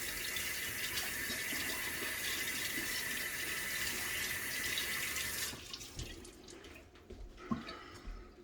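Hands are washed under a running tap, a steady rushing stream for several seconds that then cuts off, leaving scattered drips and small splashes and handling sounds, fairly quiet and with no talking.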